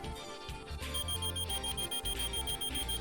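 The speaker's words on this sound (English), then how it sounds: "Oh, shut up, you stupid alarm clock." An alarm clock rings in the video game The Hero of Fortune, a loud, insistent electronic beeping that pulses in a steady rapid rhythm over game music, continuous through the whole moment.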